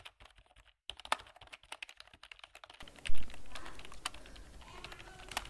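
Tapping on a mobile phone touchscreen while writing a C program, a run of light, quick taps at an uneven pace, first in near silence, then over a louder, noisier background in the second half.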